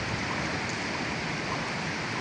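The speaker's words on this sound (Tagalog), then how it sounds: "Yan, malakas ang ulan natin mga 5-9 ngayon." Heavy rain falling at night, a dense, continuous hiss of downpour with no breaks, loud and close.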